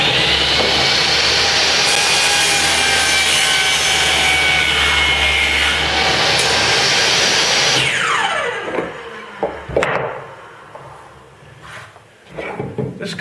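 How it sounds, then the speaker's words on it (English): Hand saw cutting back and forth through wood in steady, loud strokes to clear a threaded rod for a woodworking vise nut, stopping abruptly near the end, followed by a few quieter knocks and handling sounds. "I'm just going to run the other side and then I can run the other piece"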